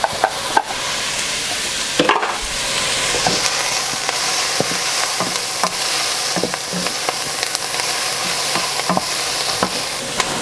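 Onion, pepper and cabbage frying in a pan, giving a steady loud sizzle with occasional sharp clicks of a utensil, close up and without talk.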